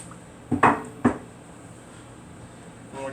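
Tomatoes tossed in a pan with a spatula: two or three quick, close clattering knocks and scrapes near the start, then a quiet hum with a faint shuffle at the end.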